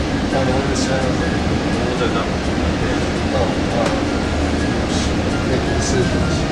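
Cabin of a Caltrain passenger train heading toward San Jose: a loud, constant rumble and hum of wheels and air handling with faint clicks, and people talking over the steady noise.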